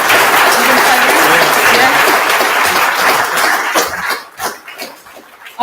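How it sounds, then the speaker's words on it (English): Audience applause at a CPD training event on managing cardiac arrest, a dense steady clapping that fills most of the clip before thinning into scattered individual claps and fading out near the end. "I want to give another round of applause to David for coming up today."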